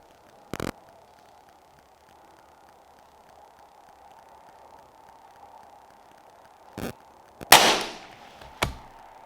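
A Tikka T1x .22LR rifle fires a few sharp, isolated shots, the loudest one near the end with a short ringing tail, separated by quiet stretches of low background hum.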